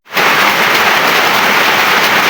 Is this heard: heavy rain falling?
yes